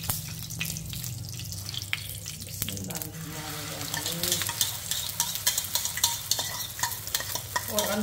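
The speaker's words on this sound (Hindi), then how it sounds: "और अब हम जो है अंडा अंडा फ्राई करेंगे। अंडा अंडा फ्राई नहीं, ऑमलेट।" An egg omelette fries in a pan, with a steady sizzle and crackle plus some stirring and watery sounds, no voices.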